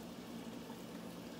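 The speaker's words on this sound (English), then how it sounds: "So I got the water boiling here." Water at a rolling boil in a very large multi-gallon pot for a seafood boil, a steady dense bubbling wash that stays even and fairly close throughout, with no talking.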